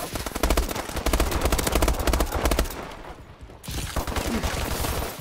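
Burst-fire guns in Call of Duty Advanced Warfare Gun Game, rapid loud rattling volleys that cut out briefly and then resume, dense and close.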